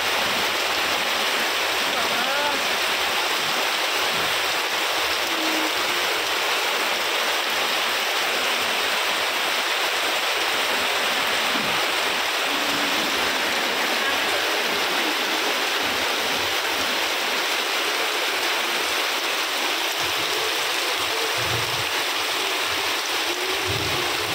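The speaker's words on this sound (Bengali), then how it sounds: "খুব জোরেই কিন্তু আজকে বৃষ্টিটা হচ্ছে" A dense, steady roar of heavy rain pours continuously, loud and unbroken for the whole stretch.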